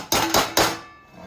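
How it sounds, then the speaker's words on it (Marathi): A lid is set on a pot of freshly cooked white rice, three quick metallic knocks close together, followed by a short ringing decay. "ठेवायचं का झाकण?"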